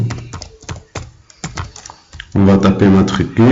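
Fingers type on a computer keyboard while filling in an Excel spreadsheet, giving a run of sharp, separate key clicks at close range. A voice then starts talking and covers the end.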